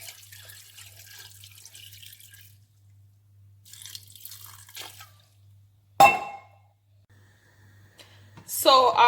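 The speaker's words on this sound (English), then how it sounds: "Then I'll add half cup of water to it." Half a cup of water poured into fish cooking in a pot for Nigerian okro soup, heard as a few faint trickles followed by a brief close splash and a final louder pour.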